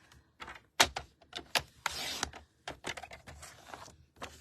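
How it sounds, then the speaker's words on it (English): An adhesive sheet being cut for a handmade card, giving a series of close clicks and snaps and one longer scraping slide, irregular and fairly quiet. "I am going to cut this adhesive sheet at 3 3/4"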